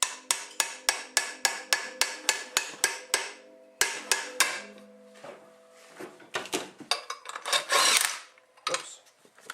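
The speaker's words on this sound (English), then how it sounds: "Here comes Al and his hammer again" A hammer strikes metal in a fast regular series of sharp close blows, pauses, then continues in a rougher irregular burst of hits and scraping, loud and without talk.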